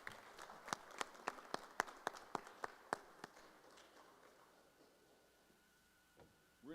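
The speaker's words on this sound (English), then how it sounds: "one more big round of applause for water polo all-state athletes" At a school board meeting, sparse claps ring out one at a time in a slow, even rhythm. They fade after about three seconds into a quiet room, and a small thump comes near the end.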